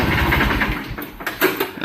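A used Kubota L1-22 tractor's engine runs with a loud, rough mechanical rumble close by. It then falters and winds down as the engine is shut off, with no voices heard.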